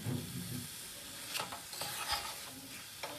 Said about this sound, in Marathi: कढईपासून थोडंसं तूप सुटल्यासारखं दिसतं तिथंपर्यंत आपल्याला हे हलवून घ्यायचं आहे